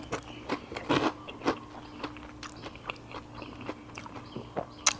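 Someone bites and chews crispy batter-fried soft-shell crab up close, giving a series of sharp crunches and crackling bites spaced irregularly over a quiet background.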